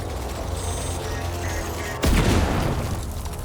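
A single loud gunshot from a gun in the video game Alan Wake 2 cracks out partway through, followed by a booming tail, after a quieter stretch of game ambience.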